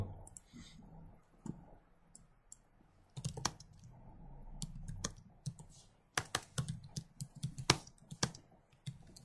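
Fingers tap on a computer keyboard in a quiet room, first in sparse single clicks and then in quicker, irregular bursts of keystrokes, close and clear, with no talking.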